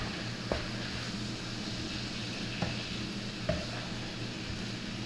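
Sweet and spicy chilli shrimp stirred in a pot with a little water, giving a soft steady sizzle with a few faint utensil taps against the pot, quiet and continuous.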